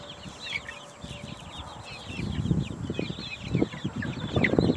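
Baby chickens cluck nearby, soft low clucks growing busier and louder, while small birds chirp faintly in the background.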